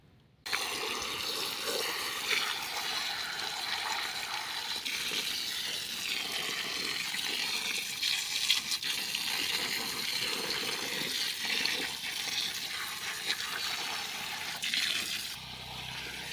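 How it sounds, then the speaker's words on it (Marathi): Leafy sour greens (ambat chuka) being washed in clean water give a continuous close splashing and running-water rush that holds steady throughout, with no voices. "आता आपण कट करायच्या आधी स्वच्छ पाण्याने धुवून घेऊया दोन पाण्याने"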